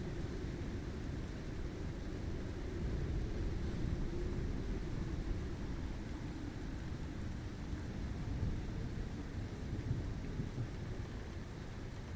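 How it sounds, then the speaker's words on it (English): Thunderstorm in a survival video game, a steady low rumble of thunder and rain that holds at an even, fairly quiet level throughout with no talking. "Just gotta wait for the storm to pass."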